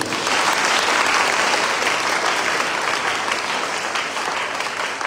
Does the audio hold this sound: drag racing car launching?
no